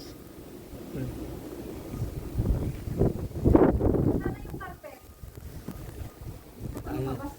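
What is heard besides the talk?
strong wind blowing during snowstorm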